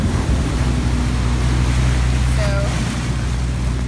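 A car pushes through deep floodwater on a flooded Mid-City New Orleans street during a storm, a steady wash and slosh of water with a constant low rumble and wind noise throughout.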